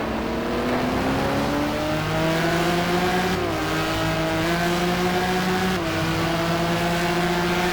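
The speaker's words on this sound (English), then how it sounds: "He overcooks it, can't get the car to turn, and has to lock up the brakes." A GT race car in a racing game at the Fuji circuit drones loudly with a steady engine tone, stepping down through a couple of shifts as it brakes hard into a corner. There is no talking.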